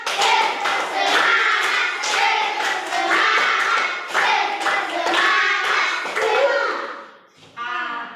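A school class of children doing the tepuk semangat rhythmic clapping game, with bursts of clapping in patterned beats mixed with children chanting along, fairly close and loud.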